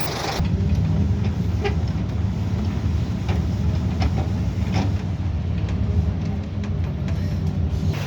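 A vintage London bus on route 43 rumbles along with a loud, steady low engine drone and road noise heard from on board, with occasional faint clicks and rattles.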